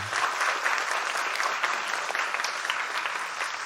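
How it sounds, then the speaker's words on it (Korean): Steady applause fills a church service as a congregation claps together following a confirmation announcement, a dense, even wash of hand claps lasting throughout at moderate distance. "박수해 주시겠습니다"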